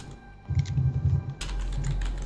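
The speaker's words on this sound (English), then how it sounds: "And who's typing?" Rapid clattering keystrokes on a computer keyboard, close and fairly loud, followed by a broader steady noise after a brief pause.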